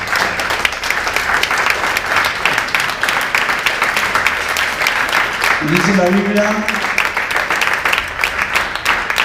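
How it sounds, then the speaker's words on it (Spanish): A church congregation claps loudly and steadily for God for several seconds, a dense sustained ovation while a preacher's voice speaks over it. "Denle un aplauso muy fuerte a Dios."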